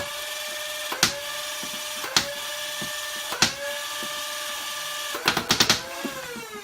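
A Nerf Hyperrayven dart blaster whirs with a steady motor hum while firing single sharp dart shots at intervals, then lets off a rapid burst of four or five shots near the end.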